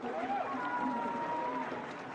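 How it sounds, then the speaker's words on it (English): Crowd applause at the Formula E Monaco race for Lotterer as he climbs out of his car, a faint steady patter of distant clapping under a commentator's voice. "the applause for Lotterer as he climbs out of his car"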